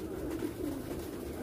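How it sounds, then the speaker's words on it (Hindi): Soft, low pigeon cooing, a continuous throaty murmur close by, quiet and unbroken over the short stretch. "माशा, बहुत अच्छा कबूतर है"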